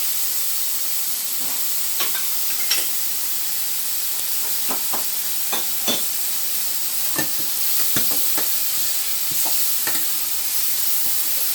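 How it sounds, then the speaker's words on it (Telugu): Chopped tomatoes fry in a hot tempering in a pan, giving a steady close sizzle broken by scattered crackles and stirring clicks, with no voices over it. "ఇది చూడండి చక్కగా వేగిపోయి, ఇది వేగిపోయింది కదా"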